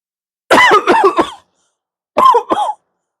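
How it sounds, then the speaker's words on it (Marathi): A patient coughs hard in a comedic doctor's-clinic scene: a close, loud burst of several rapid coughs, a short pause, then a second, shorter coughing fit. "डॉक्टर साहेब खोकला झाला हो खूप"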